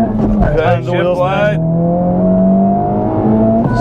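Honda Civic Type R FL5 in R mode launching hard on a street from first gear, engine note climbing steadily and loudly through the revs, with voices talking over the start.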